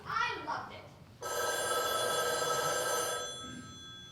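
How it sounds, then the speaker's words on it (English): A telephone rings on stage during a school theatre production of the play Harvey, a steady electronic bell tone sounding for about two seconds after a brief line of dialogue. "I have to answer the phone."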